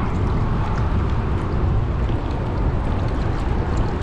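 Wind at sea aboard a fishing boat, a loud, steady roar of rushing air and buffeting against the microphone with no let-up.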